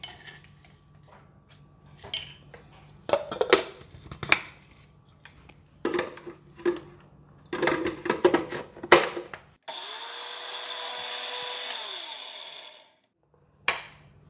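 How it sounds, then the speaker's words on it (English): Dried chili being prepared in a grinder for Thai chili flakes, with scattered clinks and taps of handling followed by a steady whirring electric grind of about three seconds that stops abruptly. "So with the same grinder, I'm going to use it to grind the chili."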